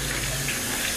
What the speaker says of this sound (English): we're gonna pour it in